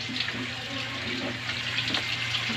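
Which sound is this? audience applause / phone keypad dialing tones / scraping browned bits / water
water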